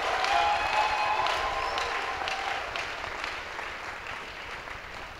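A church congregation applauds in worship during a French-language service, with steady, moderately close clapping that gradually tapers off under faint music.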